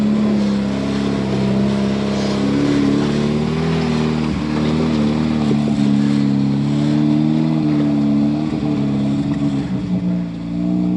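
A carbureted 4x4 rock crawler rig idling and lightly revving on a slow warm-up run to heat the bearings and gears, a loud, close, continuous low engine drone with wavering pitch.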